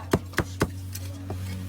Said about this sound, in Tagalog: Ang lalaki ba naman ng tipak ng lechon kawali na hinihiwa sa harapan ng mga customer?